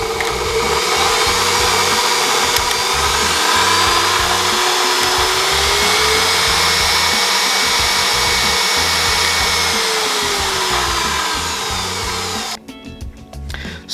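A KitchenAid stand mixer running on test after a control-board repair: a loud, steady motor whir with a faint shifting tone, holding constant for over twelve seconds before cutting off abruptly.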